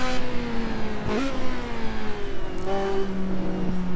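A race car engine in the video game Assetto Corsa drones steadily during an online race, its pitch climbing and shifting through gear changes, loud and continuous throughout.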